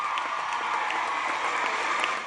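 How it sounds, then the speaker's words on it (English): An audience applauds a star performer at a live TV morning show, giving a continuous, fairly loud round of clapping with a faint crowd murmur beneath it. "A round of applause for our star performer."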